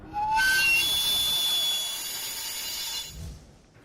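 A sweet potato vendor's cart steam whistle blows loud and shrill in a rising tone, then holds a steady high pitch with a hissing rush for about three seconds.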